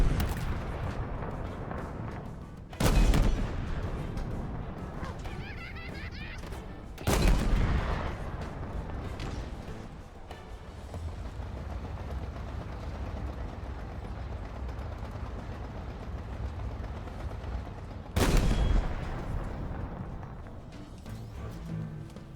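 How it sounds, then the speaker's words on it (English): Enemy fire during Halo Infinite open-world combat, a few heavy booming blasts standing out at intervals over a low, steady vehicle rumble, fairly distant and without talk. "Somebody's shooting at us from over here"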